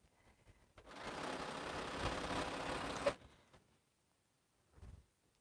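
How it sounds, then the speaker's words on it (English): Sewing machine stitching pieces of patriotic quilt fabric together in pairs, a steady mechanical whir running for about two seconds, then stopping, followed by a brief softer burst near the end. "So just randomly sewing everything in a pair as long as the fabric isn't in the other pair"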